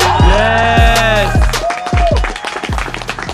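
Crowd applause and cheering at the close of a parkour jam, a loud burst of clapping with whoops and shouted voices over the top, thinning out toward the end.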